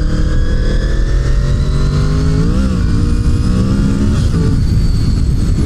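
A motorcycle fitted with a sport exhaust revs loudly and continuously up close, its deep engine note rising and settling in steady, droning pulls with no talking.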